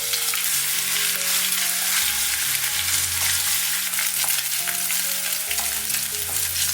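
Minced meat and shiitake mushrooms stir-fried in hot oil in a wok, a steady loud sizzle and crackle with scraping stirs, running continuously without talk.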